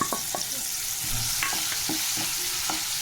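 Tempering seeds and crushed unpeeled garlic sizzle in hot oil for a tempering, a steady close frying hiss broken by a few scraping stirs of the spoon.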